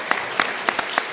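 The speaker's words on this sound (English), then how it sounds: "You can applaud for those sponsors." Scattered audience applause for sponsors at a county commission seat debate, a handful of distinct, separated claps spaced irregularly over a second, fairly close and moderately loud.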